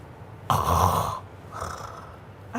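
Snoring from a sleeper with a blocked airway: two loud, rasping inhalation snores, the first long and harsh, the second weaker, followed by a brief snort at the end.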